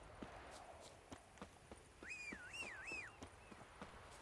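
Roach, the horse from the video game The Witcher 3, walks with a steady, evenly spaced clip-clop of hooves, and a short warbling whistle-like call rises above the steps midway.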